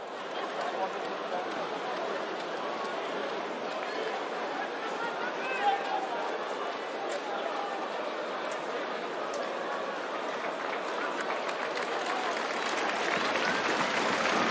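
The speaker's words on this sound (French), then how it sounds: "Et applaudi par l'ensemble du stade Marcel Michelin, Benjamin Boudou." A rugby stadium crowd at Stade Marcel Michelin in Clermont applauds a Brive player during a Top 14 match, sustained clapping and cheering that swells toward the end, with commentary and crowd chatter underneath.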